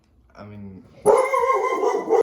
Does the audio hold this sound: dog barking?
yes